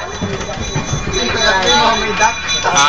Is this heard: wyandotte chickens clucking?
no